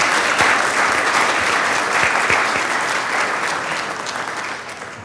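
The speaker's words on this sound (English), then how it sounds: "Can we please clap for them as they come forward," Loud, dense applause from an audience at a city council meeting fills the room steadily and continuously, easing off slightly toward the end.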